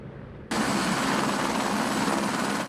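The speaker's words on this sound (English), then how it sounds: "Several helicopters collected water in buckets that hold up to 400 gallons and have been dumping it on the fire" Firefighting helicopters carrying water buckets work at a wildfire helibase, their loud, steady rotor and engine roar swelling in suddenly and holding close and constant.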